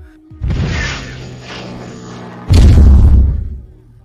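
A cartoonish explosion effect in a nuclear-warhead scene: a whooshing rush followed by a heavy, loud boom with deep rumble that fades out over about a second.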